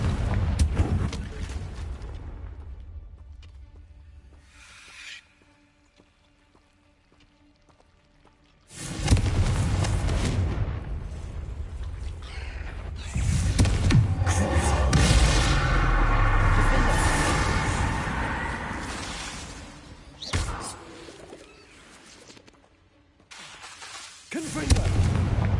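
Booming fire-spell explosions from a Harry Potter video game, several heavy blasts in bursts separated by quieter gaps, loud and close, with rumbling tails.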